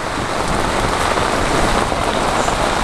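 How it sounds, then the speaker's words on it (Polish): A heavy rain downpour pours down steadily and loudly, a dense unbroken hiss of drops on surfaces with no voices. "Ulewę mamy konkretną."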